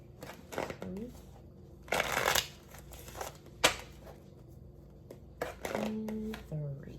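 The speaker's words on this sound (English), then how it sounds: "I want to get a good shuffle." Tarot cards being shuffled by hand in a quiet room, with several bursts of riffling and sliding cards and a few soft taps between them, close and moderately loud, with brief speech-like murmurs.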